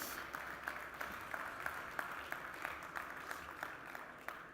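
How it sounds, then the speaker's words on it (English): Faint, thin applause at a pitch competition, with individual claps standing out in a loose, uneven rhythm, distant and quiet. "please give them another round of applause and woos,"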